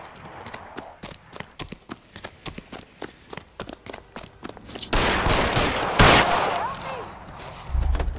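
Gunfire in L.A. Noire, a detective action-adventure video game, with a run of sharp, loud shots spaced irregularly, then a denser burst of firing and noise near the end; no voices.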